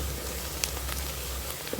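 Onions sautéing in a pan for a chicken curry give off a soft, steady sizzle and crackle that stays fairly faint and even throughout.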